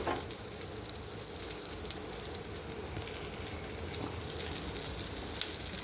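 Pieces of taro (kochu) fry in a pan for a village-style mustard-poppy seed curry, giving a continuous close sizzle and crackle with faint occasional pops, steady and unbroken, with no talking over it.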